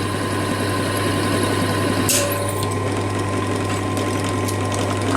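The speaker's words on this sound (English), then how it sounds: "If you use the hand drill, it would actually be better." A hand drill motor whirs steadily up close while drilling into a broken bolt, a sustained buzzing grind with a brief sharp scrape partway through.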